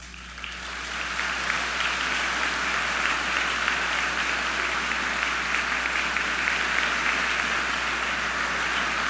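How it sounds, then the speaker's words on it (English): A graduation convocation audience breaks into applause that swells within the first second and holds as a dense, sustained, even roar of clapping filling the hall. "let's give them a heartfelt applause."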